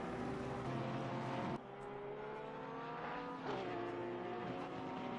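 The number 52 Porsche race car in a racing video game set at Bathurst holds a loud, continuous engine howl, with a sharp upshift and drop in pitch, then the revs climb again through a second shift.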